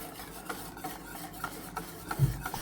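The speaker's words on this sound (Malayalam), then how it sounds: "ഇനി ഇത് നമ്മൾ കൈയെടുക്കാതെ തന്നെ ഇളക്കിക്കൊണ്ടിരിക്കണം" Custard mix being stirred into boiling milk in a pan for banana pudding gives soft, quiet, rhythmic scraping strokes repeating steadily, with no talking.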